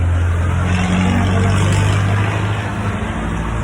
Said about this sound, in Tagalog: Narinig ko guys yung mga sasakyan